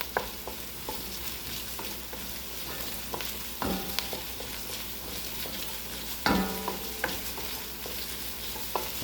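Onions and garlic sizzle in fat in a pan while a utensil stirs them, with a continuous crackling fry broken by occasional sharper scrapes, steady and moderately close.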